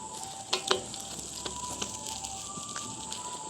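A veechu roti fries on a hot stone over a gentle flame, giving a soft, steady sizzle broken by a couple of brief scraping clicks as the roti is flipped.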